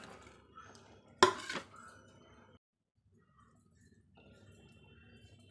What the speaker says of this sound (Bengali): এখন দিয়ে দিচ্ছি এই যে ভাজা মাছগুলো